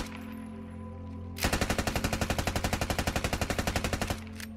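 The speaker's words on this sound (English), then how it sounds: "To fill the GPMG role, we have the C6A2. Also surprisingly, its recoil is pretty controllable as well." A C6A2 general-purpose machine gun fires in the video game Squad, one sustained automatic burst of evenly spaced, loud, close shots lasting nearly three seconds after a low humming lead-in, then stopping abruptly.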